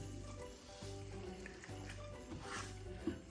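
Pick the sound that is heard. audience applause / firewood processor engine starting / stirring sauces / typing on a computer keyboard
stirring sauces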